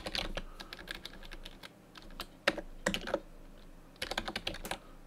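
Typing on a computer keyboard to enter names into a wedding album layout, quick irregular clusters of close key clicks separated by short pauses, with no voices present.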